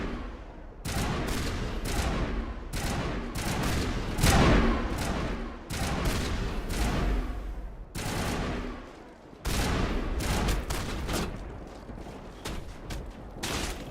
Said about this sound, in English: Manavai coordinating crossfire. Check for long-range turrets helping the Geth target